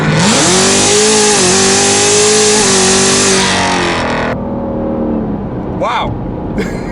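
A 1000-whp 2017 Chevrolet Camaro ZL1 roars under hard acceleration, its engine note climbing loud and close through the gears before cutting off abruptly, leaving a quieter drone with brief voice sounds.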